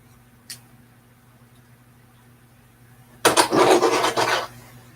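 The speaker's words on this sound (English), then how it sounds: "This axle just doesn't want to move, even though I'm trying to just push it through." A LEGO Technic axle forced through a stiff piece during a Ferrari 42125 build, giving a brief close scraping, rubbing rasp after near-silence, with a faint click earlier and no talk.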